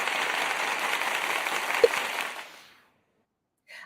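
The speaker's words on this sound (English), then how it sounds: "We need some applause for that one." A canned applause sound effect plays as a steady crowd clapping and cheering wash, then fades to silence, followed by a short faint burst just before the end.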